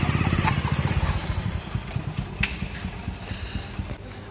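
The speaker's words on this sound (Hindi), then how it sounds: "तो लगाइए आप साइड में बाइक को।" A motorcycle being parked at the side of a large repair workshop idles close by, first with even regular beats, then turning rougher and more uneven as it settles.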